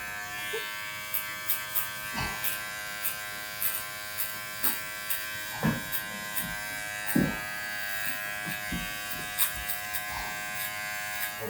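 Electric hair clippers fitted with a number 1 guard buzz steadily and close during a self-administered skin fade, with small clicks and scraping bursts as the blade passes over the head.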